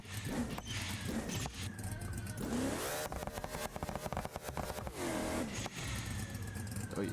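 A Chevrolet C6 Corvette ZR1 drag build roars through loud, sustained revving in BeamNG, with rising sweeps and bursts of rapid throttle blips under constant engine noise.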